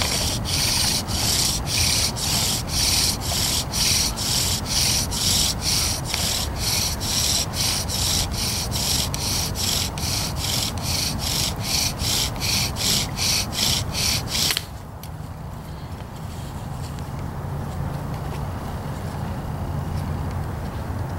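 A redwood spindle from dead standing timber grinds in a bow drill for friction fire, a loud rhythmic back-and-forth rasping of fast regular strokes that stops abruptly near the end, leaving quiet scuffling.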